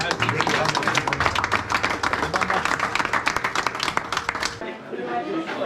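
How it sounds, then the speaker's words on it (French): Applause and clapping for football players after an intense end-of-season derby match, a dense steady patter of many hands that thins out near the end, with voices mixed in. "Moi, je vais vous applaudir parce qu'on a vu des vrais guerriers"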